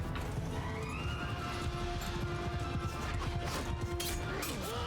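Horse neighs and hoofbeats in a Mount & Blade II: Bannerlord battle, a whinny rising over a loud, busy mix of clashing combat noise and galloping hooves, with no talk.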